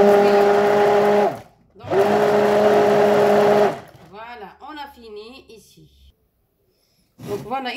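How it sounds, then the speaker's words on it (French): A blender whirs loudly as it mixes ingredients for kalb ellouz, running in two strong bursts split by a short pause, after which a person talks. "c'est bruyant, j'ai déjà mixé, donc voilà, je vais mixer devant vous"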